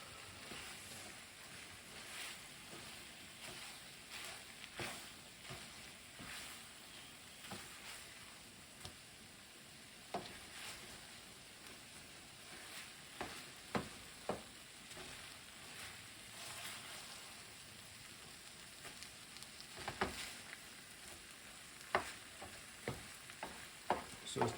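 Eggs frying in a pan while being stirred, a soft steady sizzle broken by scattered scraping clicks of the utensil that grow more frequent toward the end, with no talk.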